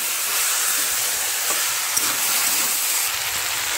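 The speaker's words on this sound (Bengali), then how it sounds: "সমস্ত কিছু ভালো করে নেড়ে একটু ভাজা ভাজা করে নিয়েছি।" Chopped banana stem fries in a hot pan while being stirred, giving a steady close sizzle with soft scraping strokes and no talk.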